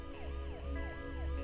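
An ambulance siren wails in a steady repeating up-and-down sweep, loud and close, with a constant engine rumble beneath and no talk.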